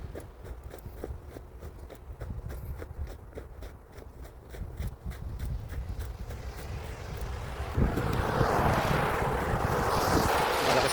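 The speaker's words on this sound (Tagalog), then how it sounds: "Pag maghahapon na talaga dito, lumalakas ang hangin." Wind gusts across an outdoor snowy spot in the late afternoon, starting with faint footstep-like taps over a low rumble, then swelling sharply into a loud, steady rushing blast near the end.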